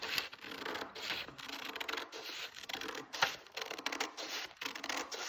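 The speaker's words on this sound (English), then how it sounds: "I'm going to cut the outside edge with regular scissors" Regular scissors cut around the outside edge of a paper sewing pattern, making continuous close crisp snipping and rustling with steady repeated blade strokes and no talk.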